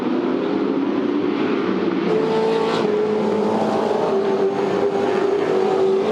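V8 Supercars race cars from the 2007 championship at the Desert 400 roar past close together at full throttle, a loud continuous engine drone with rising revs as they run side by side and make light contact.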